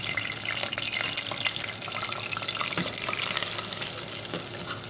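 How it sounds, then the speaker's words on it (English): Chopped onion drops into hot oil for jollof rice and fries with a steady, dense sizzle and crackle throughout, close and without talking. "Now pour the onion inside."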